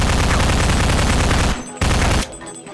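Rapid SMG gunfire in the PlayStation 2 video game Half-Life, a loud continuous burst that stops briefly, then fires again for a short burst before falling quiet.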